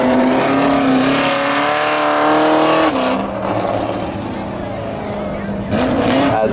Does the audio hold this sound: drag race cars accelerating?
yes